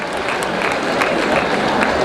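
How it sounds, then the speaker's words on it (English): Loud, dense applause from the audience at the APC women's conference 2022, a continuous close burst of many hands clapping for a couple of seconds. "So we want to clap for the APC for this new trajectory."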